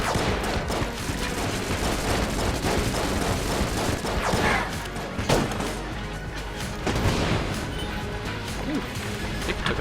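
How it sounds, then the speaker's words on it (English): Explosions and heavy gunfire from the video game Enter the Gungeon, a loud, dense barrage of crashing blasts and rapid shots filling the whole stretch with little pause. "That explosion to the face."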